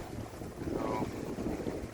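Steady southwest headwind buffeting a boat crossing a lake on the Rideau Canal near Newboro, a continuous rushing wind and water noise close to the microphone with no talk.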